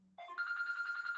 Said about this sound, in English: the phone went off